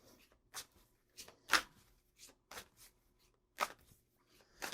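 Tarot cards being shuffled and pulled from the deck, quiet intermittent papery swishes and snaps spaced irregularly, close and faint with no voice.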